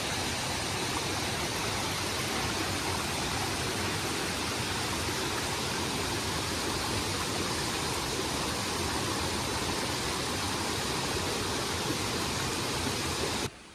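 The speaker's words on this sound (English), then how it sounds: "You're gonna cross and go right to the base of the waterfall." Steady, loud broadband roar of water pouring down at the base of a wilderness waterfall near a creek, continuous and unbroken with no voices.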